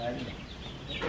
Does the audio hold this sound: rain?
no